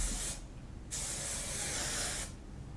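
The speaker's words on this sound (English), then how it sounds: "now I'm going to use my Masterpiece, which is more of a setting spray or holding spray" Masterpiece hairspray, a setting and holding spray, hisses out in two bursts, each nearly a second and a half long, separated by a short pause, close and clear with no talking.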